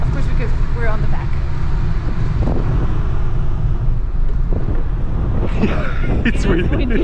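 Strong wind rushes over the rear deck of a ferry bound for Hokkaido, roaring steadily into the microphone while people talk intermittently beneath it.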